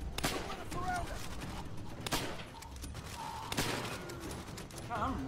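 Gunfire in a World War II video game: sharp shots and thuds crack repeatedly at irregular intervals amid a noisy battle din, with voices talking over the shooting.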